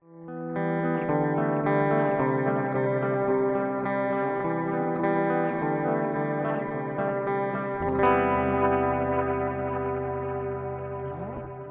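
Electric guitar through a digital delay pedal, picked riff notes ringing out with repeating echoes that smear into a lush wash, a brighter strum near the middle, moderately loud and alone without talk.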